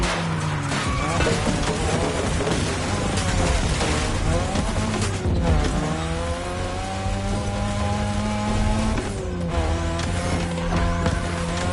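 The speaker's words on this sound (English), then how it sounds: "Tonight your ride is a 3rd Gen 2002 Mazda RX-7." A 2002 third-generation Mazda RX-7 races in GTA 5, its engine note climbing and dropping through gear changes with bursts of tire squeal, loud and continuous throughout.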